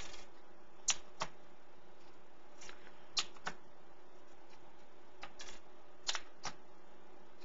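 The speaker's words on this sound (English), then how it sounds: "show you how easy it is to swap out the keys with the included tool" Keycaps being pried off a Cyborg S.T.R.I.K.E. 7 gaming keyboard with its included removal tool give a scattered series of sharp, quiet plastic clicks and snaps, with no talking.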